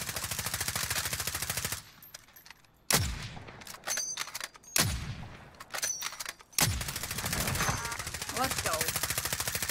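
Pistol gunshots in a shooter video game, sharp single cracks spaced a second or two apart amid gameplay noise, with a brief spoken voice near the start.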